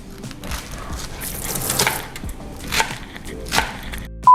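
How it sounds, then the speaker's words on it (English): A knife chops folded food on a cutting board with a run of close, uneven taps and thuds, some water running faintly in the background, no voices. "Fold it and then you have less to chop."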